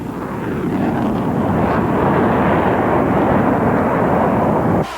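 A YF-22A jet takes off from a runway with a loud, continuous roar that stays powerful and steady throughout before cutting off abruptly at the end.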